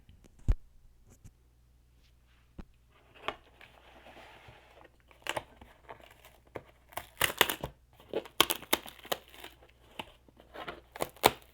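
Packaging around a Muji fountain pen being opened up close, with sporadic clicks and taps giving way to denser crinkling and tearing of plastic and paper that grows busier toward the end.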